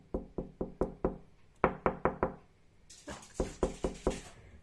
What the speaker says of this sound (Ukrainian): Постукай спочатку.